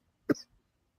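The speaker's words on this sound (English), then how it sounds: "Who's coughing?" A single short cough, sharp and close, sounds once in an otherwise quiet room during a talk-show style conversation.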